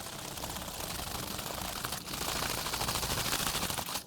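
Can of Cerakote coating being shaken hard, a fast continuous rattle of the mixing ball inside, close and steady with a brief pause midway, no talk.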